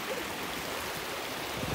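A waterfall on a hiking trail gives a faint, steady wash of falling water heard from some distance, an even continuous rush with no distinct splashes and no voices.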